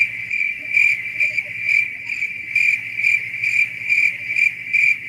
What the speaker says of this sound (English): can you hear those crickets?